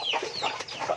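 Village chickens (ayam kampung) kept as a backyard hobby flock clucking in quick, close, fairly loud bursts, with no voices.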